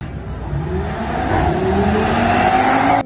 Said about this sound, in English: I have been drag racing.